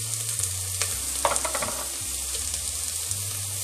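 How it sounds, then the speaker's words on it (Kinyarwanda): Onions, celery and garlic fry in a pan with a steady broadband sizzle, and a utensil stirs through them in a few scraping passes; no one speaks. "ndagenda mbivangavanga buhoro buhoro kugeza igihe biri gufatira ibara"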